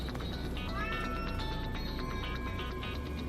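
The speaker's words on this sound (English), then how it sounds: "Wait, that's a cat!" A cat meows in the Astral Chain video game: a single clear, rising and falling meow stands out over a steady bed of game sound and music, fairly close and loud.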